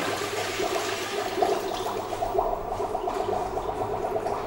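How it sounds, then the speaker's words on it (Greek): Sterilizing water drains down through an Arz 933 ice cream freezer with a continuous gurgling, flushing rush, steady and close, with no talk. "αφού κατέβει κάτω το νερό μας που είναι για αποστήρωση"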